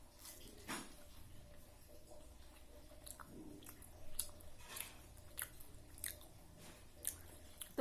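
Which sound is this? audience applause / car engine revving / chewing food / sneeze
chewing food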